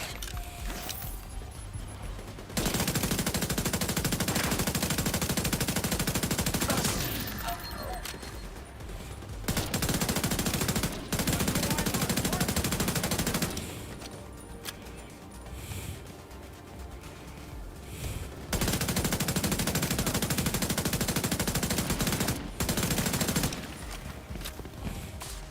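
A deployable turret in The Division 2 fires long bursts of automatic gunfire, several sustained volleys separated by short pauses, loud and close, with faint speech between.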